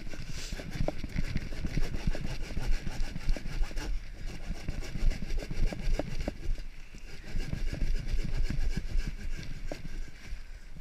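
A handheld power sander grinds over a small log in a steady, rough buzz with fluctuating pressure, punctuated by knocks and scrapes as the wood shifts.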